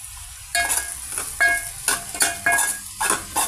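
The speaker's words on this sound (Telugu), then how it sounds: "ప్యాన్లో కంటే ఈ కంటైనర్లో డీప్గా ఫ్రై అవుతుంది" Ivy gourd (dondakaya) deep-frying in oil inside a container, with cocoa powder and red chilli powder added, a steady sizzle broken by repeated stirring scrapes, close and fairly loud.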